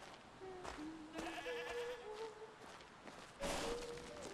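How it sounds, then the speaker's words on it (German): Sheep bleat in the horror video game Mundaun, a few wavering calls at moderate distance over a quiet ambient background, with a louder, closer bleat near the end. "Ich höre Schafe."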